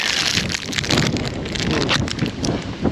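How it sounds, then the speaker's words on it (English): Wind gusts across a microphone while kayaking on a lake in mid fall, a loud continuous rumbling buffet with fluctuating bursts and no clear voices. "I'm getting beat up by the wind"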